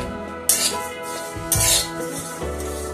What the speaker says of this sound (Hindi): तो अभी मैं जीरा भूनने वाली हूँ